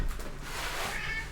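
A house cat meows to be let into a closet, a short, fairly loud cry that stays steady over about a second and a half with no talking.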